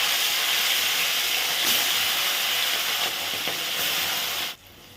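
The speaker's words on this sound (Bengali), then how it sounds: "তেল গরম হয়ে গেছে, মাছগুলো ছেড়ে দেবো।" Fish dropped into hot oil gives a loud, dense, continuous hiss that holds steady for about four and a half seconds, then falls away sharply to a much quieter level.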